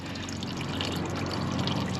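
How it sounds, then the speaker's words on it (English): Water runs steadily out of the overflow pipe of a full grey water tank, a continuous close splashing trickle with no pauses. "As you can see, water is definitely flowing."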